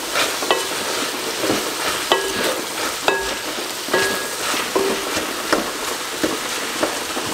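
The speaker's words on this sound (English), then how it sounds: "What we're gonna do, give it a stir." Leeks sizzle steadily in a frying pan while a utensil scrapes and taps against the metal in a run of regular stirring strokes, close and clear with no voices.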